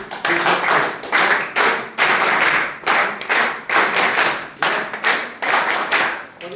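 A group claps together in a regular beat on instruction, sharp unison bursts landing roughly every two-thirds of a second, loud and close with brief gaps between them.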